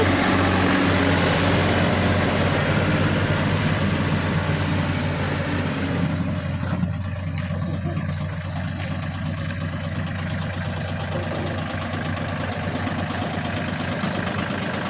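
A small Shibaura three-cylinder tractor engine idles steadily and close by, a constant low droning rumble with a faint rhythmic chug that holds throughout.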